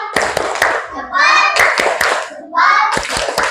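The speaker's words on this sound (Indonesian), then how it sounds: "tepuk tangan untuk kita semua" A classroom group claps hands in quick rhythmic bursts, each volley of sharp claps broken by short stretches of children's voices chanting together, loud and close.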